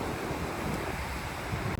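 Surf at Nias, Indonesia rolls and breaks out at sea in a steady, broad wash of noise, with wind buffeting the microphone throughout and no voices.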